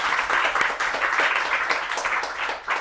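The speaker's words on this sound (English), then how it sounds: "not without a warm round of applause for our speakers today" An audience at a conference on AI and the future of news gives a warm round of applause for the speakers, dense steady clapping throughout, fairly loud and close.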